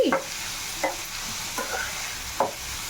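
A spoon scrapes and stirs turmeric through egg curry frying in a pan, giving four short separate strokes over a soft, continuous sizzle.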